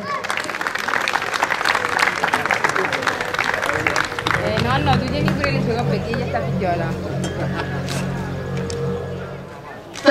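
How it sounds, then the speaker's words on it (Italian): Crowd applause at an outdoor prize ceremony after a car slalom race, clapping fading into background chatter and an engine-like drone, with a voice heard over it. "gli facciamo un applauso."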